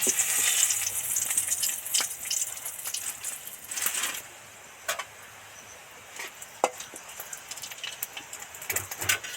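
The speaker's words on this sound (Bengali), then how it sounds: "ওই তেলের মধ্যে দুটো শুকনো লঙ্কা দু টুকরো করে আর দুটো তেজপাতা দু টুকরো করে দিয়ে দিচ্ছি" Two dry red chillies and two bay leaves, each torn in half, fry in hot oil for a pumpkin-greens dish. A loud hiss at first settles into a quieter crackle scattered with sharp little pops.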